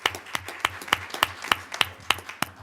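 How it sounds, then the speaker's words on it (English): Clapping at a school board meeting comes from only a few people, with sharp, evenly spaced claps in a steady rhythm close by. "So we'll give you a round of applause."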